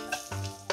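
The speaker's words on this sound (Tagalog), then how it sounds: "Gisa lang natin ang bawang at sibuyas." Garlic and onions sauté in a pan with a steady, close sizzle, broken by a couple of quick utensil scrapes at the start and end of the short burst.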